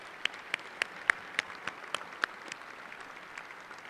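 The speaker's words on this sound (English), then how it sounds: "Please join me in applauding my colleagues and welcoming our special guests" Sparse clapping from a small group at a college commencement, sharp individual claps spaced irregularly at first, thinning out toward the end.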